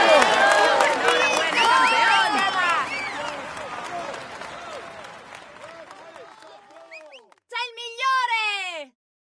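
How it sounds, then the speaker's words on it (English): A large crowd in the video game Tour de France 2017 claps and cheers loudly at a cycling race, the applause slowly fading, then a short burst of excited shouts rises near the end. "Come on, let's applaud him once more."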